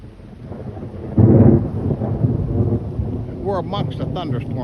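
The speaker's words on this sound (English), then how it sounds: "We're amongst a thunderstorm right now" Thunder rumbles through a thunderstorm over cattle farmland with steady rain and wind noise, a loud burst rolling in early, while voices talk briefly near the end.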